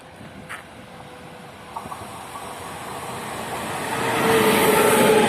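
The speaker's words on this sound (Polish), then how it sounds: "Wjeżdża pociąg Intercity Mewa, relacji Świnoujście, Warszawa Wschodnia." An Intercity passenger train rolls into Szczecin Dąbie station with a steadily building rumble and hiss, growing louder and brighter toward the end, with brief metallic clanks along the way.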